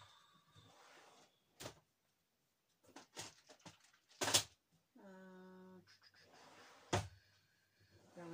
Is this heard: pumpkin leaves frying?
no